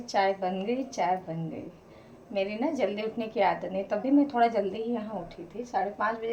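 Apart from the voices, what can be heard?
No distinct noise like a dog, phone or traffic.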